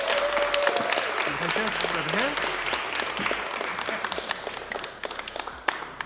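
Audience at a mind reading show gives a round of applause, dense clapping and crowd noise running throughout while someone speaks briefly over it.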